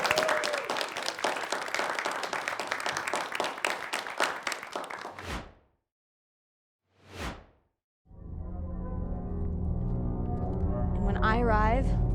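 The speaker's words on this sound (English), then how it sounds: "give another round of applause." A studio audience breaks into sustained applause, dense and steady for about five seconds before cutting to silence, then a swoosh and other sounds follow.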